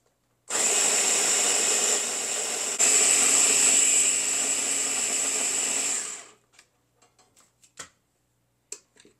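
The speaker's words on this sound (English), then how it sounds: "I'm going to blend it. Pardon the noise." A kitchen blender grinds breadcrumbs with rosemary, parsley, basil and Parmesan Romano cheese in a loud, steady whir for about six seconds, then stops, followed by a few faint clicks and taps.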